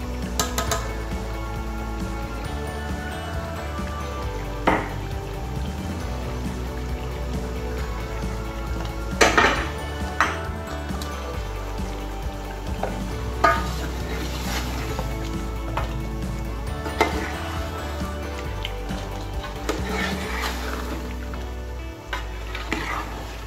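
Beef liver roasting in a pan with garlic-ginger paste and dried coriander, a steady close sizzle with occasional scrapes and clinks of a spoon against the pot, alone without talk.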